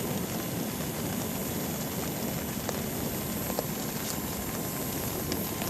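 A Dragon Stove burner fed by a speed-controlled blower roars steadily like a small jet, a dense unbroken rush close up with only faint clicks over it.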